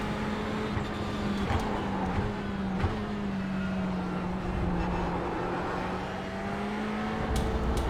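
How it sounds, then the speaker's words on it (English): A GT race car closes in from behind in iRacing: a steady, loud engine drone whose pitch dips and climbs with shifts, with the faint whine of other cars mixed in. "Car coming up behind us is a lap down."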